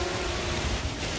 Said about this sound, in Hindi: झरने की आवाज़ है।